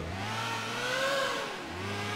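A motorcycle engine in GTA IV revs continuously, its pitch rising and then falling slightly, loud and close with no talking.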